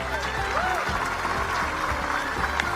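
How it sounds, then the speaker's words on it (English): Applause from an audience in an animated show rises as a dense, continuous patter of clapping, moderately loud, with a voice and light effects mixed in over it. "Shut up! I don't need your clapping"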